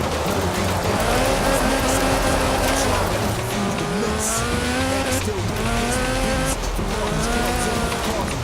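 A 1979 Lotus Sunbeam rally car with a slant four-cylinder engine making 250 brake horsepower races in Forza Horizon 4, its engine droning loud and steady with pitch rising and falling through gear changes, with tire noise underneath.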